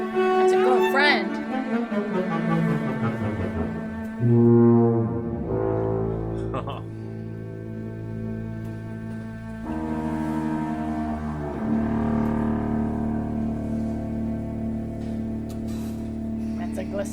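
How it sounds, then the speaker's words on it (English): Bass tuba and contrabassoon in an orchestral recording sliding through low, sustained glissandos, loud and heavy, with several held and swooping notes over a dense orchestral backdrop. "That's a glissando, all right. That's the tuba sound you don't want to hear."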